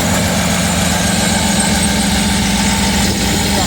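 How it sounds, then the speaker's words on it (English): A 396 big-block engine idling in a 1929 Ford Model A hot rod, a loud, steady close-up rumble with rapid ticking lifter clatter running throughout. "Lifter clatter."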